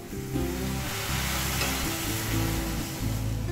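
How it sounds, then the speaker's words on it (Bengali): Water poured into a hot pan of frying okra and potato curry sets off a loud, steady, close sizzle that holds throughout, with no talk. "এবার দিয়ে দিচ্ছি জল"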